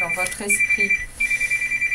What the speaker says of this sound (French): une alarme qui s'est déclenchée